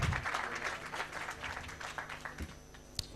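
A crowd at an International Youth Day event applauds a guest: quiet, somewhat distant clapping running throughout, with a few sharper claps standing out near the end.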